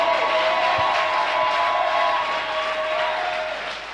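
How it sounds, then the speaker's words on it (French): A church congregation applauding during a Sunday service, a broad, sustained clapping from many people, steady and then gradually fading toward the end, with a faint tonal hum underneath and no clear speech. "give him a big clap"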